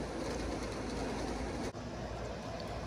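A battery-powered three-rail O gauge toy train locomotive hums steadily along its track at low volume, with one brief dip midway and no talk.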